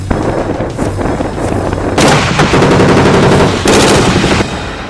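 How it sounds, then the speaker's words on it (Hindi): Heavy gunfire from tanks at a US–South Korean military exercise, with loud, continuous rapid bursts and a boom-laden rumble. The firing grows more intense partway through. "समंदर से बाहर आते रौद्र रूप में ये टैंक, टारगेट सेट कर अंधाधुंध फायरिंग"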